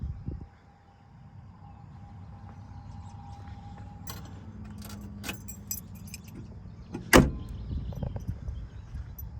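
The trunk lid of a 1968 Shelby GT500 KR convertible swings down and shuts with a single sharp, solid thump near the end, preceded by light metallic jingling and clicks and followed by faint rattling.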